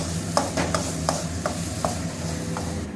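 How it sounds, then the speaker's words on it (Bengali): Food sizzling in a pan with a steady hiss, punctuated by several sharp clinks of a utensil stirring against the metal. "এটা মোটামুটি আমার ভাজাও হয়ে গেছে"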